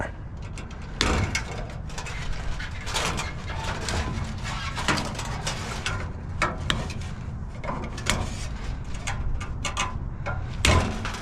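A Creworks wire stripper works through copper wire, giving a run of sharp clicking snips and mechanical ratcheting at an irregular pace, close and fairly loud against a quiet background.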